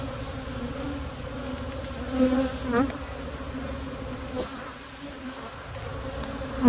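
Honeybees at an open, boosted hive during a frame inspection, a dense continuous buzz of many bees close by, with a few louder individual passes and faint handling noises and no talk.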